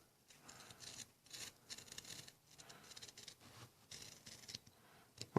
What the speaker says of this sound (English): you're going to come in here with your knife and just kind of get it right into the edge there, and then just trace along to cut the tape